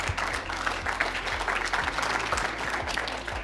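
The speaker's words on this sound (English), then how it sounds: "So if we can give them one last round of applause." An audience at an Amway IT and ISR intern presentation applauds for the interns, dense continuous clapping from a roomful of people, steady and moderately loud for the whole stretch with no speech over it.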